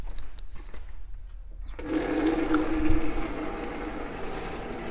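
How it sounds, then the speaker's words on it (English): A household water tap is switched on partway through and runs steadily, a broad rushing flow of water following a quieter stretch of background noise, tested on a Vaillant boiler's aqua sensor. "So we'll turn the tap on"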